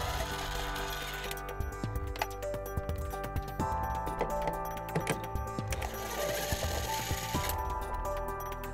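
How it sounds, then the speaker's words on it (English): A ratchet with a 10 mm socket removes taillight bolts on a 2010 Toyota Sienna, giving rapid, close, uneven ticking clicks in bursts over a steady background hum. "we're going to remove those using a 10 millimeter socket"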